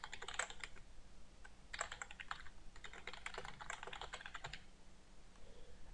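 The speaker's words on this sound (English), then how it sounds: "I'm just going to type in some random text." Quiet, close typing on a computer keyboard, rapid irregular key clicks in several bursts with short pauses, alone without talk.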